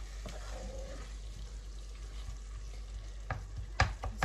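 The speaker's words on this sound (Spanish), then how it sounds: "Removemos todo esto." Liver in a tomato and cumin sauce is stirred in a frying pan with a spoon: a quiet, steady low simmer runs throughout, with a few sharp utensil clinks against the pan near the end.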